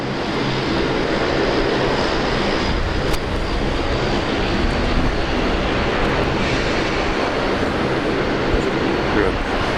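A Dash 8 Q400 turboprop at the far end of runway 19 right at Brisbane Airport gives a steady, continuous broadband engine roar, distant but filling the whole stretch at an even level, with faint voices over it.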